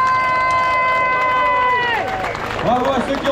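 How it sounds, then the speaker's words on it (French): Crowd at a gathering breaking into applause and cheering, rising after a sustained tone fades, moderately loud with people talking in the mix. "Applaudissons-les très fort."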